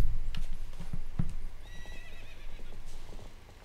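Epona, a horse in the Zelda Twilight Princess video game, gives a high whinnying neigh amid quick clopping hooves and scattered game sounds, close and moderately loud.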